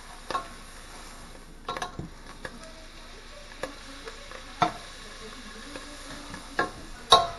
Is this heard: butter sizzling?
yes